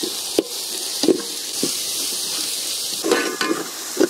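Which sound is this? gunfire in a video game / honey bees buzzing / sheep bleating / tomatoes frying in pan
tomatoes frying in pan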